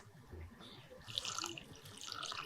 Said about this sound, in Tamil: என்ன இவ்வளோ லிட்டர் தண்ணி ஊற்றுறீங்க